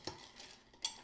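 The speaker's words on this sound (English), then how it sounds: "And I'm going to give it another quick stir." Winter sangria stirred with ice in a pitcher: two bright clinks of ice against glass about three quarters of a second apart, with a soft swirl of liquid between.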